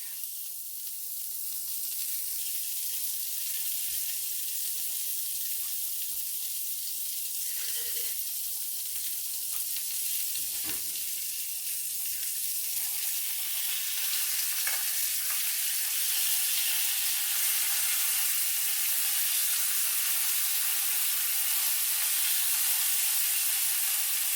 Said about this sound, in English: Our sausage is cooking now.